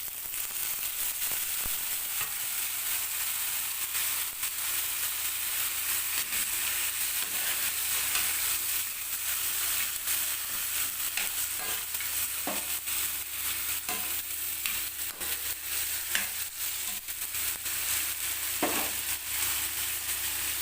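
Tomatoes, chilies and onion sautéing in a pan, a steady close hiss of sizzling oil throughout, with occasional faint stirring clicks.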